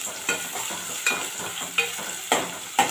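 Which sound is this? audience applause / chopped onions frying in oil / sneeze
chopped onions frying in oil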